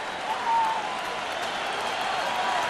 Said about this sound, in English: And this crowd appreciates Pavano